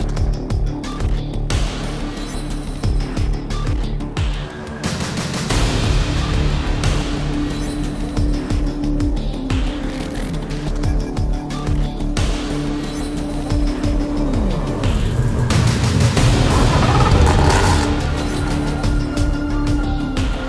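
LMP3 and GT3 race cars roar off the grid together at the start of a race at Portimão, a dense, continuous wall of engine noise swelling louder as the field accelerates, with no talk over it.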